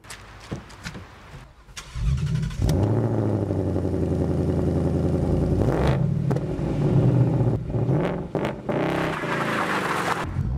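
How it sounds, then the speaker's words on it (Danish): Ford Mustang Bullitt with a naturally aspirated V8 and performance exhaust, starting with a loud burst and then holding a deep, steady rumble punctuated by several sharp revs near the end, close and alone without talk. "Og så får du det her. Performanceudstødningen."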